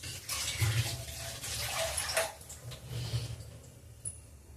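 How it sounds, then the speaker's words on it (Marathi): Water running and splashing while spring onion greens are washed in a kitchen, a steady close wash with soft squishy handling and a low hum beneath. "कांद्याची पात धुवायला टाकले, धुवून घेतलेला आहे"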